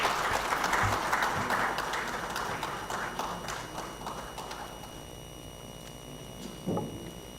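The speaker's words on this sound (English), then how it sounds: "Please welcome him with a huge round of applause." Audience applause greets the Vice Chief of Naval Staff at a formal pension event, a broad sustained clapping that gradually thins and fades over several seconds, with a brief louder burst near the end.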